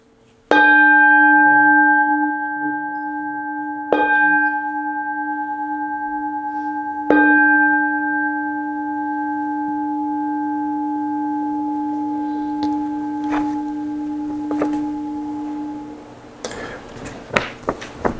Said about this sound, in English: when I ring the bell, I recommend you just listen to the sound of the bell